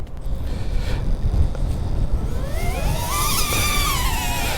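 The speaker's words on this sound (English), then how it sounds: "Whoa, wind, stop wind." Wind gusts roar steadily around an FPV drone, a CineLog 35 V2, in flight, a constant broadband rush; partway through, rising and falling whining motor tones join in as the drone climbs and throttles up.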